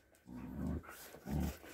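A female husky vocalizes in two drawn-out, low, moaning howls with a short pause between, close and fairly quiet.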